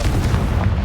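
A Confringo blasting spell explodes in Hogwarts Legacy, a dense low boom rumbling steadily through the short moment, loud and close with no pause.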